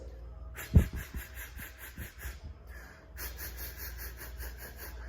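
Breathy, airy tones from a flute head joint, pulsing rapidly in an even vibrato, with short pauses between phrases and soft breaths.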